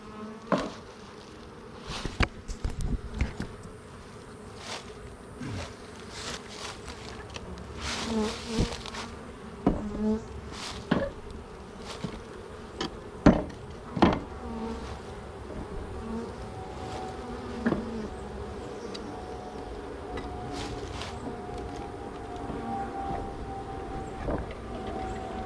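Bees swarm around an open hive, a steady close buzz that goes on throughout, with individual insects droning louder as they pass near, and no talking.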